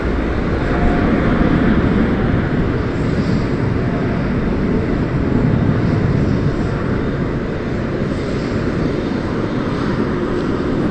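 An American Airlines jet bound for Brisbane takes off at night from DFW Airport, a loud, steady broadband roar that fills the whole span without letting up.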